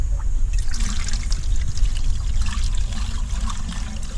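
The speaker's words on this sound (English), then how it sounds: "I'm going to open this valve, and I'm going to see if the water flows through the system how I think it should" Water runs through a homemade pond filter system just after a valve is opened, a loud, steady trickling pour with splashy bursts that continues evenly throughout, with no voices.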